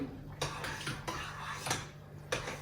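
Potatoes and bulgur being stirred with a utensil in a pot, giving repeated knocks and scrapes against the pot wall at an uneven rhythm, fairly close and clear with no talking.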